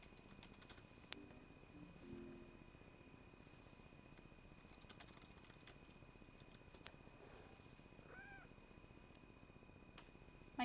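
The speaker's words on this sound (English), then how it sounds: "My cat's really noisy, sorry." A pet cat named Miso meows softly a few times in a quiet room, faint and fairly distant, with keyboard-like clicks and low background hum.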